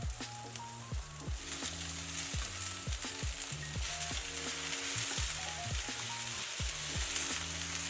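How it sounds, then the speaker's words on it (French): Vegetables frying in olive oil in a pan, a steady close sizzle and crackle running throughout, with faint tonal clinks and scrapes layered over it. "je vais faire revenir pendant une dizaine de minutes avec de l'huile d'olive dans une poêle à feu doux à fort"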